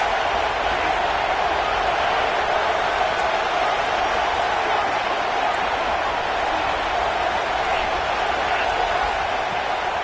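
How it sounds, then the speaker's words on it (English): A football stadium crowd keeps up a dense, constant roar for the full ten seconds, loud and unbroken with no distinct cheers or claps standing out. "This crowd trying to make life miserable for this offense."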